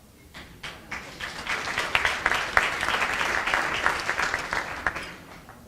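A crowd at the Tiger Bay Club's 2018 State of the Bay gathering applauds Sheriff Goldberry. The clapping swells from scattered hands into full, lively applause, then thins out toward the end.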